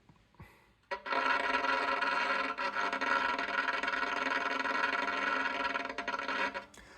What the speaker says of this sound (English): bowing the violin at a very slow and constant speed